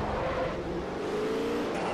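Koenigsegg race car engine in the Forza Motorsport 4 racing game, a steady, loud motor drone held throughout with a faint rising whine and no talking.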